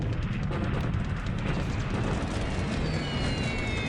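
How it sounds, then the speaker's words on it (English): Bombing raid explosions over Clark Field in a December 1941 Pacific war strategy game, a steady dense roar of blasts and rumble that stays loud throughout, with no talk over it. "Another bombing raid."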